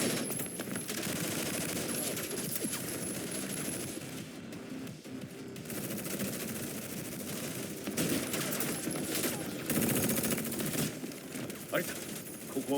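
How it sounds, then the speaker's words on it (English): Sustained Gatling gun fire in the fighting game Tekken 7, a dense continuous rattle of rapid shots lasting several seconds amid battle noise, with voices speaking over it. "Gatling."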